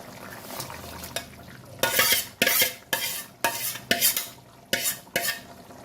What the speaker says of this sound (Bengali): এই সময় আমি দিয়ে দেবো মাছ।